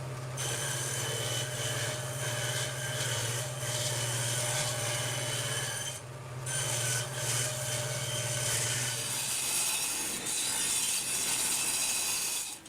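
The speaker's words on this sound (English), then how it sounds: "So let's start making a cut." A table saw runs a steady, loud hum while cutting an eighth-inch-wide groove in a wooden board, with grinding cutting noise layered over it. The motor tone drops away near the end, leaving rough scraping and rattling.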